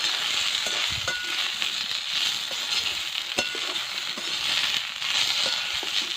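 Lightly frying potato in a pan, with egg mixed with onion and chilli to follow: a steady, close oily sizzle with scattered crackles and occasional stirring scrapes throughout, with no talking.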